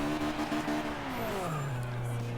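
A 50-year-old Mini's engine drones in Forza Horizon 2, holding a steady buzzing note, then dipping and climbing back into a sustained high rev as the throttle is lifted and reapplied.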